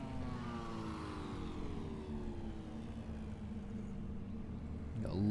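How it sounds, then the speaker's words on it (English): A touring race car with an anti-lag system idles on the Hockenheim grid, a steady low engine drone with a faint turbo whistle gliding slowly downward, and a sharp rising rev at the end. "Sort of slight turbo whistle there on idle, just as it has the anti-lag system ready to go."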